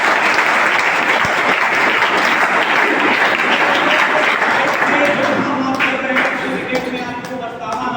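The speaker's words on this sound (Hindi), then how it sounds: "चलिए सब एक बार जोरदार ताली बजाइए।" Dense, loud audience applause at a class or seminar, continuous clapping from many hands that holds steady and then thins out slightly toward the end.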